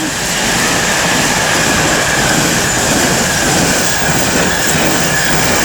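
A heavy GBRF Class 66 diesel freight locomotive rumbles past nearby at Lichfield Trent Valley, a dense continuous roar of wheels and rail noise with a faint squeal, loud throughout.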